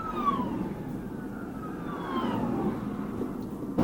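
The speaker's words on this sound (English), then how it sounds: "Oh, we got cops flying by." A police car siren wails past a 2018 Jeep Wrangler JL on the road, its falling tone sweeping by at moderate distance over steady road and engine rumble, with no voices.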